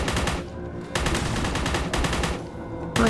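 Loud shotgun blasts in the dark shooter Forgive Me Father, about one heavy boom per second, layered over dense game noise and music.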